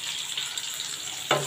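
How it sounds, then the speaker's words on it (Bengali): Cut potatoes fry in hot oil in a wok with a close, steady sizzle, a sharp stirring scrape near the end. "আলুটা আমি লাল লাল করে ভেজে নেব।"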